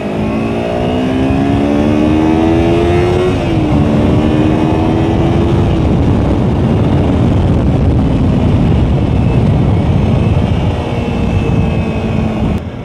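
Kawasaki Versys X 250 Tourer motorcycle engine while riding in the rain, a loud steady drone with rising and falling revs and a gear change, close and continuous without talk.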